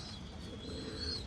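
Pigeons coo softly in a low, continuous murmur at a flock kept for feeding, with steady faint background noise and no talk.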